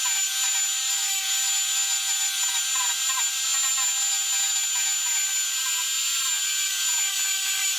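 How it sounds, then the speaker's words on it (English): Steady, close hiss of 240-grit sandpaper being worked over a rough plastic fuel tank from a 1982 RM250 dirt bike. The rasping continues without a break and no one speaks. "Because this tank is so rough, I'm hitting it again with the 240 grit"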